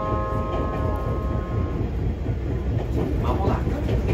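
Nagano Electric Railway train running along a narrow single-track line, heard from inside as a steady, loud rumble with rolling wheel noise and a faint sustained electrical hum early on.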